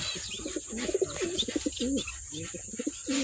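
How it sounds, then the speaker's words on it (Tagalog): Pigeons in a loft giving repeated low, rolling coos in a steady series, close and clear with a faint high hiss behind. "hindi ko talaga balak maraming kalapate kasi malakas sa pagkain"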